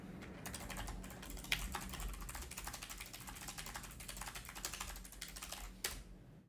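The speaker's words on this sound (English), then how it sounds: "Hold on, I'll type it just in case." Rapid keystrokes clatter on a computer keyboard in a quiet room, a soft, close, irregular run of clicks that continues for several seconds with a few louder taps.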